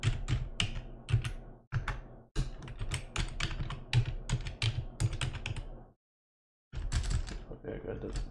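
Username and password typed on a computer keyboard during home network router setup: rapid, close bursts of keystrokes with brief gaps, then a longer silent pause before typing resumes.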